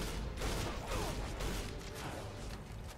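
Gunfire in the video game James Cameron's Avatar: The Game, quiet rapid bursts of shots with mechanical clatter under a dense low rumble, faint and muffled throughout.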